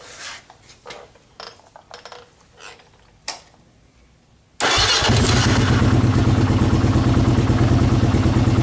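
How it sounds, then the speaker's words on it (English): Faint clicks and clatter, then a warmed-up Kawasaki KLR 650 motorcycle engine with a Mikuni carburetor abruptly fires and runs at a loud, steady idle for several seconds. "I've already had the bike fired up and warmed up a bit."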